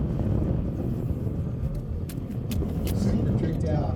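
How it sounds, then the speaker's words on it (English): A modified Ford Focus ST race car drives an SCCA ProSolo autocross course, its engine roaring steadily and fairly close, with a commentator's voice running over it. "super tricked out Ford Focus ST."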